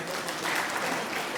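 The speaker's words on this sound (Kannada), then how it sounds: "ಜೋರಾಗಿ ಚಪ್ಪಾಳೆ ಹೊಡಿಬೇಕು." An audience at a student award ceremony claps loudly in a dense, continuous burst of applause, with some faint voices mixed in.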